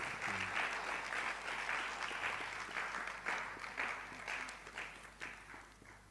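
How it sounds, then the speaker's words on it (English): An audience at a public medical college lecture in Ghana gives sustained applause, a dense, steady wash of many hands that is faint and distant in the hall, running alone without talk. "Clap for Claude, not for me"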